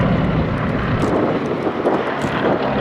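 Vintage propeller aircraft making a low final pass at the Duxford Battle of Britain air show, a loud continuous engine drone filling the clip, no talk.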